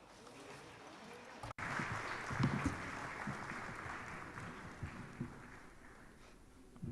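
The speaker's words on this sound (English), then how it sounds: "Round of applause for her again" Audience applause at the 7th Merck Foundation First Ladies Initiative event, a steady wash of clapping from a large crowd that keeps going without a break and swells a little partway through.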